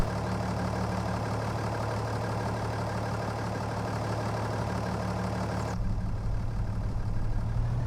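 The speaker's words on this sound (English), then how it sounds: "Listen to the engine." A vehicle engine runs continuously in a steady, droning idle beside a farm field, holding an even level throughout, with the upper tones dropping away sharply near the end while the low rumble carries on.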